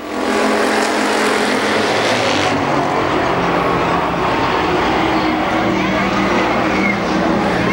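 Race cars roar around Columbus Motor Speedway during a 1996 heat race, a loud continuous engine drone with a car surging past, under a public-address commentator's voice.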